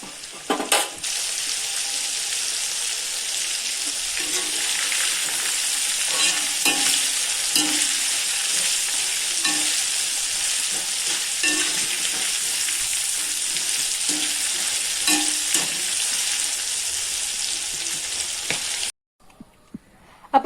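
Crispy KFC-style popcorn chicken fries in hot oil, a loud steady sizzle running almost twenty seconds with occasional stirring clinks before cutting off abruptly.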